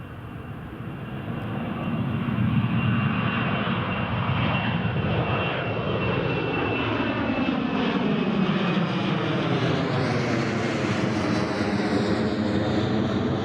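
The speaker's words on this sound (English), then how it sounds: "There's the Ryanair heading to Palma de Mallorca." A Ryanair passenger jet at Newcastle International Airport, bound for Palma de Mallorca, makes a steady, building engine roar with a rising whine toward the end, heard alone at moderate distance.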